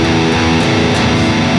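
Open picking on an electric guitar, strings ringing freely rather than palm-muted, a dense sustained chord texture with a few picked attacks, loud and close with no voice over it.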